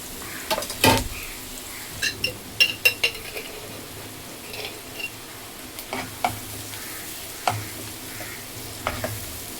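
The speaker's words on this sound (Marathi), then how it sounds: "तर ह्याच्यात आता मी अद्रक लसणाची पेस्ट टाकते" Onion stirred in sizzling butter with ginger-garlic paste for pav bhaji, a soft steady fry under repeated scrapes and clinks of a spoon against the pan, close and moderately quiet.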